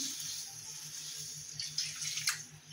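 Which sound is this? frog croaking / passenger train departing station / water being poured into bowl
water being poured into bowl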